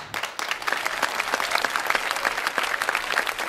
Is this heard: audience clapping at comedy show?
yes